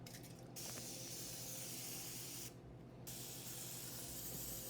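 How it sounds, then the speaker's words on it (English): Cooking oil spray hisses steadily onto chicken livers on an air fryer rack, two long close bursts separated by a short pause. "So I'm gonna spray this one again."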